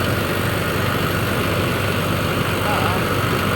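A vehicle engine runs loud and steady from close by, a constant low drone with no breaks or changes in pitch.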